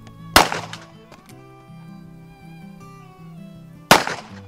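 Two loud, sharp shots from a Cimarron Thunderer revolver aimed at bottles, a few seconds apart and close by, with a faint clatter and a low steady hum between them.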